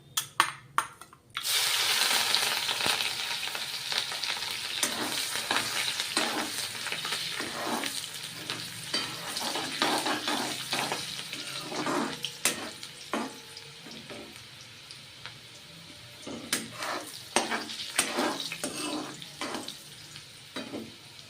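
Green chillies sizzle and fry in hot oil, with a burst of loud crackling as they hit the pan, then a steady sizzle broken by frequent sharp clicks and scrapes of stirring.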